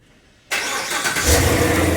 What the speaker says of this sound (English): hold that down to start the car